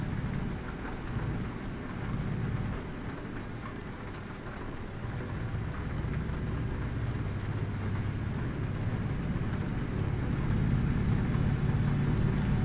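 Steady rain falls in a truck-driving game, with an engine rumbling underneath. The hiss is constant and close, and a low drone swells slightly toward the end.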